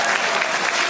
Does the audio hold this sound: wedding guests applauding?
yes